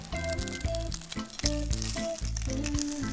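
Salmon fillets sizzle meat side down in a hot frying pan, a continuous crackling hiss heard beneath louder rhythmic background music.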